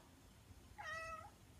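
A single short, clear cat meow of about half a second, fairly quiet, with near-silence before and after.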